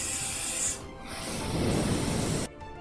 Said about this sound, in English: when using the straight airflow heat gun to remove components